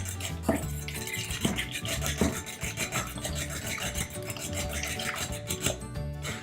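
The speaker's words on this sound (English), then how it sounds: "We're going to whisk this together" Egg yolks whisked in a bowl for low-carb pumpkin donut batter, a steady rapid scraping and rubbing of the whisk against the bowl, close and continuous with no talking.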